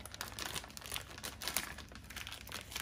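A bag crinkles and rustles in close, quiet bursts of handling as a big chunk of lard is pushed inside it.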